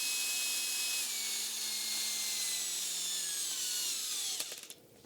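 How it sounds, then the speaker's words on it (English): A high-pitched electric drill whine running steadily at full speed, its tone drifting slightly, then fading out with a few rattles at the end. "This is the maximum speed of my drill."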